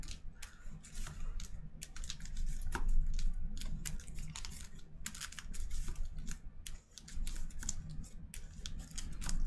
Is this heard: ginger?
no